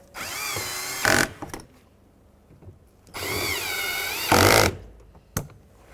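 A power driver snugs the door handle screws on an Acura MDX, likely a 2007–2013 model, in two whirring bursts that each end in a brief clicking clutch, with quiet gaps between.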